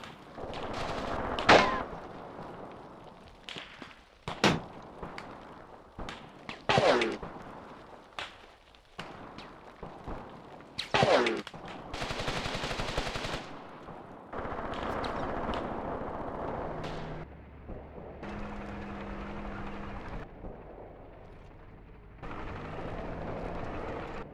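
Artillery blasts and bursts of gunfire from a World War II tactical battle game, sharp loud booms and cracks scattered irregularly, followed by lower, steadier rumbling and engine-like drones later on.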